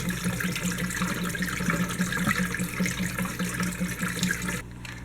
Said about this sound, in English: I'm going to tilt it over and pour out some water